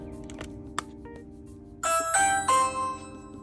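A Ring Video Doorbell Pro's plug-in chime plays a bright two-tone ding-dong melody that rings out loudly and decays, after a quieter stretch with faint clicks.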